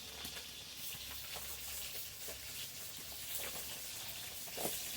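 Fish frying in oil in a pan in a home kitchen: a continuous bright sizzle with small crackles and pops, fairly close and steady, with no talking.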